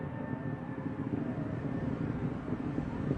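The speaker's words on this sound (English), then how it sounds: "Throttling down, engine continues to burn as expected." A rocket with solid rocket boosters climbing during launch ascent, its engines throttled down yet still burning, heard as a continuous distant roar with a steady low rumble and no pauses.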